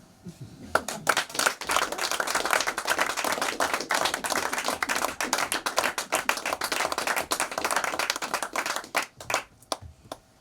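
A crowd applauds steadily, dense crackling claps filling the space for several seconds before thinning out near the end.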